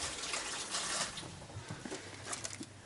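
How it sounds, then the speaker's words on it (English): Water runs steadily from a kitchen tap as hands are rinsed clean of raw egg, a constant close splashing hiss with faint patter of droplets, no voices. "let's wash my hands"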